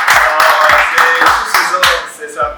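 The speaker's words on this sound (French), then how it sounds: "Est-ce qu'on peut acclamer pour tout le monde?" An audience clapping at an evening master class in a hotel, with brisk, loud, close rhythmic claps that rise and fade over a couple of seconds, with some voices mixed in.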